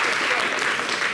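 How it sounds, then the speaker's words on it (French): An audience breaks into dense, sustained applause at a televised show, loud and close, with a voice talking over it. "Applaudissez pour la dame."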